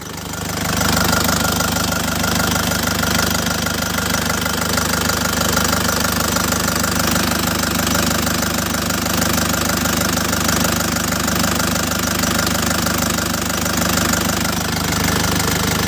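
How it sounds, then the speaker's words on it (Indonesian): A hot 2005 LS Turbo engine idles with a steady, even knocking rumble, loud and close, running alone with no talk. "Mesin aman tanpa ngasep, kondisi panas"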